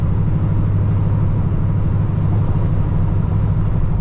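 A 1985 Chevrolet El Camino with an LS3 V8 and four-speed automatic, heard from inside while driving, with a steady, loud, low engine drone and road rumble that runs unbroken throughout, with no talk.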